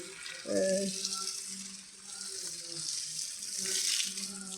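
Water pours and splashes onto betel vine plants in a home plantation, a continuous rushing, gurgling flow that swells and fades, with a low hum underneath.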